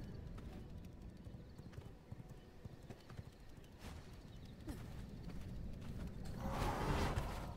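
Horse hooves clip-clop steadily in the vampire survival game V Rising, a soft rhythmic patter set against a dense ambient game background that swells louder near the end.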